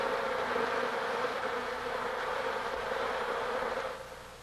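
Honeybees fan their wings inside a hive, a close, continuous droning buzz of many insects that holds steady and then eases off slightly at the end.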